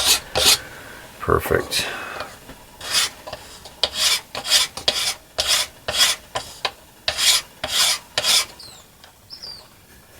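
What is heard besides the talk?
removing wood by filing for a woodworking strop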